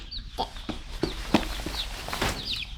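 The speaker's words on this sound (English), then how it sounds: "You like the baby chickens?" Baby chickens clucking and peeping in a coop, a busy mix of short chirps and clucks with scattered scratching footsteps, close and moderately loud.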